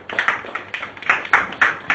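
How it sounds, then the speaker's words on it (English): Sparse, uneven clapping from a small group greets a player coming up to take a medal, coming in short bursts of a few claps at a time, close and fairly loud. "All of you give a big clap."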